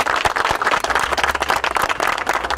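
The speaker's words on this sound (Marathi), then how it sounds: "आपण सर्वांनी जोरदार टाळ्या वाजवून अभिजित राणे साहेबांचं स्वागत करूया।" A crowd applauds in a steady, dense burst of clapping to welcome Abhijit Rane, president of the Dhadak auto rickshaw and taxi drivers-owners union, at a gathering in Jogeshwari. The clapping is loud and continuous throughout, with no voices.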